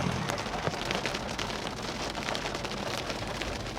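Rain pattering steadily on a car during a drive, a dense even hiss of drops on glass and metal with no voices.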